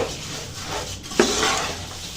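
Puffed rice (murmura) is tossed with masala in a hot pan, making a soft, continuous rustling scrape with one sharper clank of a utensil against the pan partway through.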